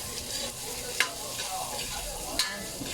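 Boiled ingredients for pancit cabagan being sautéed in a pan, a steady quiet sizzle with a couple of sharp utensil scrapes and taps against the pan.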